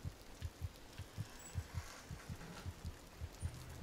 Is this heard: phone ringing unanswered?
no